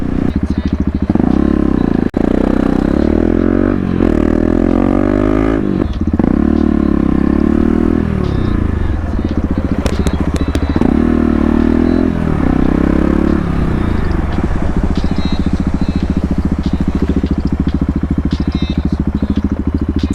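KTM 690 SMC-R single-cylinder motorcycle ridden through Des Moines, Iowa streets, a loud, close engine drone rising and falling with throttle changes, plus wind rush and some clatter throughout.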